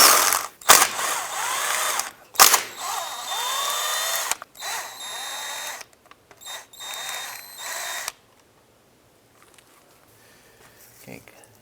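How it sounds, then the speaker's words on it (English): A 10mm socket ratchet works loose the four bolts on a 2005-10 Jeep Grand Cherokee transfer case shift motor, giving close, bursty clicking runs broken by short pauses, then near silence. "Using a 10mm socket, we want to go ahead and remove the 4 bolts."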